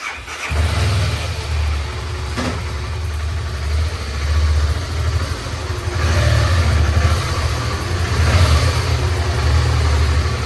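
A motorcycle engine idles steadily and close, a deep low throb with a few rising revs, running alone without any talk over it.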